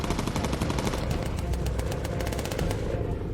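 Rapid, continuous machine gun fire of incendiary rounds from a bomber's turret in the video game Bomber Crew, loud dense bursts of evenly spaced shots over a low engine drone.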